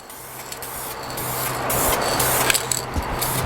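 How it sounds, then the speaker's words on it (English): Spray gun laying a flash coat of finish on a Les Paul guitar body: a close, loud airy hiss that swells and pulses in repeated passes over a few seconds, with no talking. "We're going to do one flash coat."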